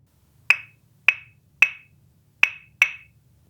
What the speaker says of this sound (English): And then, so 3-2 clave would sound like this.